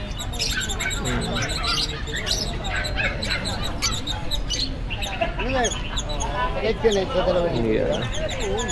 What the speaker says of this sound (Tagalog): silipin lang natin yung mga ibon niya